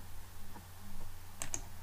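Two quick, faint clicks of an Enter key being pressed on a computer keyboard, close and isolated in a quiet room.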